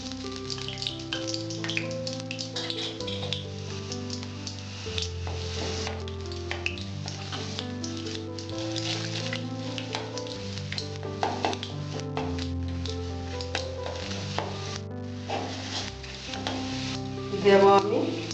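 Cumin seeds and asafoetida sizzle in two tablespoons of hot mustard oil, a steady crackling fry with occasional stirring, heard beneath continuous background music.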